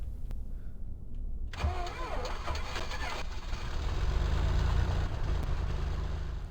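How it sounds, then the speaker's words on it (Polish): Small engines in a war video game sputter and fire up one after another, a sudden roar that rises into a steady, loud running drone. "Aha, odpalamy te silniczki po prostu te."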